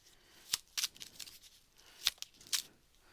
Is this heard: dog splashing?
no